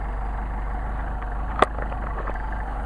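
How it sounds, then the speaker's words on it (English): A cold Mercedes 190SL engine on Solex carburetors idles steadily and evenly, a close, constant low rumble with one brief sharp click partway through. "even with a cold engine, we got a nice idle"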